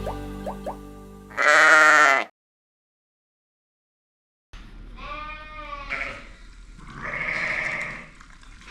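Ewes bleating in a lambing shed: one loud, close bleat, then a silent pause, followed by several more wavering bleats at varying distances.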